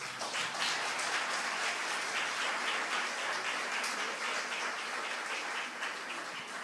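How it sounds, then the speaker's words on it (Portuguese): Church congregation applauding together, a steady, dense wash of clapping that stays fairly even throughout with no voices over it. "Você pode aplaudir a Deus por isso?"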